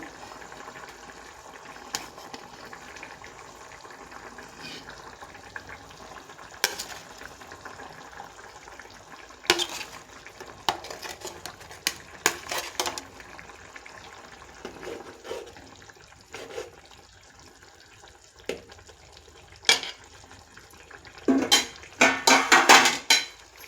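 Ridge gourd curry with dried fish simmers in a pot while the fish pieces go in one at a time, giving a steady low bubbling bed broken by scattered utensil clinks and pot knocks that grow busier and louder toward the end.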